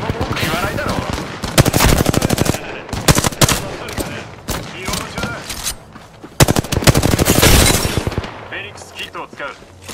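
Loud, rapid bursts of automatic weapon fire in the battle royale game Apex Legends, with long continuous strings of shots broken by short pauses and a few heavy impacts, all close and dominating the mix.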